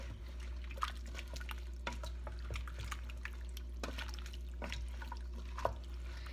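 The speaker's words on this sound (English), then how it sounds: "I'm gonna stir this around so that the meat and the sauce and everything kind of blends together" Meat and sauce in a pot of goulash being stirred, wet sloshing and scraping strokes with intermittent spoon knocks over a low steady hum.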